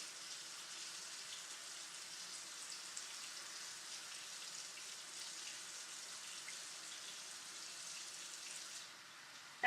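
Running tap water pours steadily into a sink while hands are washed and fingernails scrubbed, an even close hiss that holds for most of the stretch before cutting off near the end with a small knock.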